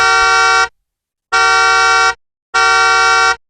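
A car horn honks three times, each a loud, steady blast lasting under a second, separated by short silences.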